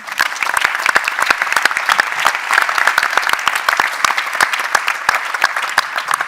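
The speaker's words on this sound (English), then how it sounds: "Give it up for DQC one last time" A conference audience claps steadily and loudly after a startup pitch, sustained applause with dense overlapping hand claps throughout.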